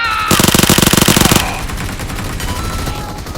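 A rapid automatic burst of gunfire in PUBG Mobile rattles loud and close for about a second, then cuts off, leaving a low hum of game ambience.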